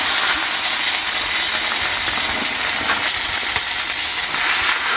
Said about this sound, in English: It's sizzling good